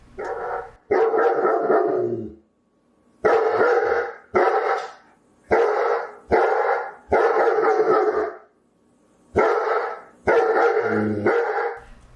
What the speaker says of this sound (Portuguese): é o latido de um cachorro